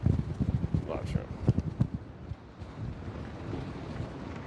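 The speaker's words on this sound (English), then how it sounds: "See how windy it is?" Wind gusts buffet the microphone on a fishing boat, a loud low rumble that eases after a few seconds.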